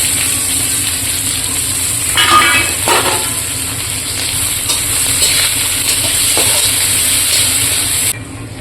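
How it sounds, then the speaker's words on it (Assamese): Onions tossed into a hot pan with coriander seeds, dried chillies, bay leaves and cumin, giving a loud steady sizzle with a few bursts of scraping stirring, then a sudden drop in the hiss near the end. "এতিয়া দিম পিঁয়াজখিনি।"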